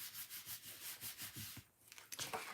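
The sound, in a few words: rubbing the back of a paper card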